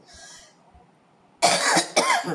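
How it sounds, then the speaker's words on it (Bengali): A person coughs twice in quick succession, loud and close, after a quiet moment with faint kitchen background. "খুব কাশি হচ্ছে আমার"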